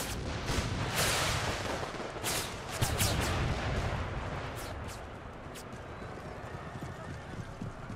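Battlefield din from Empire: Total War with the American Civil War mod, a cluster of loud booming artillery blasts early on, then quieter scattered cracks and clatter as the fire eases.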